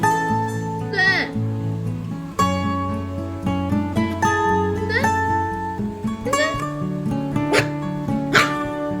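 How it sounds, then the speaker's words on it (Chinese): A stray puppy found in the rain gives a few short, high yips and whimpers, rising and falling, heard over steady background music. "会狗叫了"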